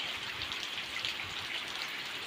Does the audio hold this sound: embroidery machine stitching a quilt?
no